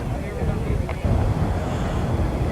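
Wind blowing across an outdoor track meet, a steady broadband rush and low buffeting rumble that holds for the whole stretch with a slight surge near the middle, no voices over it.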